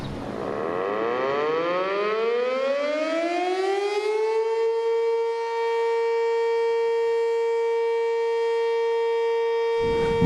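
Darley Champion siren winding up from a low growl to a sustained high wail, its pitch climbing over the first four seconds and then holding steady, loud and alone.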